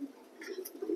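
A racing pigeon gives a soft, brief coo close by in a quiet setting.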